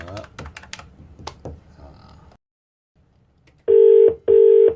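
A telephone number is dialed for a radio prank call: a quick run of key taps and clicks, a short silence, then two long, loud ringing tones on the line.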